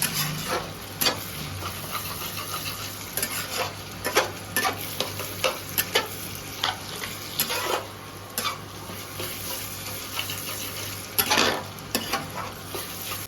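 Tomatoes and green chillies fry over onions in a pan, a soft steady sizzle broken by frequent scraping and clinking stirs, with no talking.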